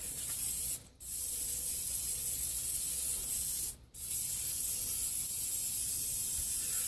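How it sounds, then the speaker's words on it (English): Steady, loud aerosol spray of engine cleaner onto a car's engine bay hisses almost continuously, broken by two brief pauses where the nozzle is released before spraying resumes. "I'm going to spray this kind of on the right side of the motor of the engine bay."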